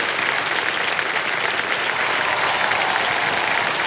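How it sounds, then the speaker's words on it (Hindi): A game show studio audience claps steadily and loudly throughout, a dense continuous wash of applause with no pauses or voices. "तालियां बजती रहें इनके लिए।"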